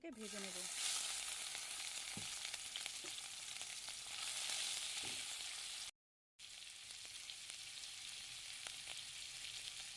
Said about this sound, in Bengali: এবার চিংড়ি মাছগুলোকে ভেজে